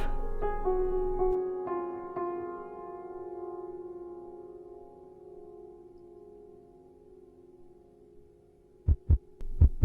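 Heartbeat thumps, a few deep, quick beats close together, come at the end after a long, fading ringing tone.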